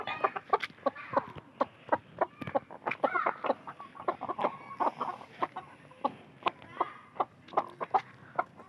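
Hens cluck steadily in a busy flock, short sharp calls overlapping in quick irregular bursts, close and fairly loud with no talk over them.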